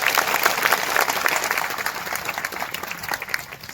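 Sustained applause from a large crowd at a tribal community public gathering, dense overlapping clapping that carries steadily through, loud and close, with no speech over it.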